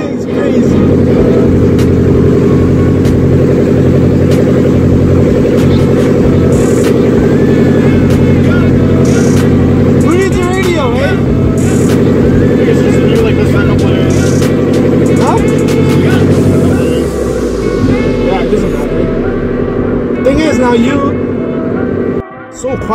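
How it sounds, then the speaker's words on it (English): A 2000 Subaru Outback with a full straight-pipe exhaust rumbles loud and close, blipping and revving in rough bursts over a heavy idle before settling lower near the end, while someone talks excitedly over it. "This car is insane, man. It is louder than my damn truck."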